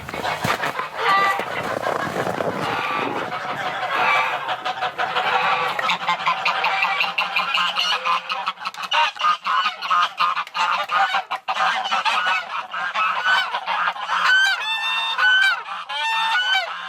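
A flock of ducks, including Muscovies, calls loudly as they are let out of their shelter on a cold winter day, a dense overlapping chorus of honks and quacks that continues throughout, near and busy.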